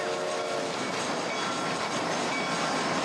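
A train rolls past in the Red Dead Redemption video game, a loud, steady rumbling wash of wheels and carriages filling the whole stretch with no break.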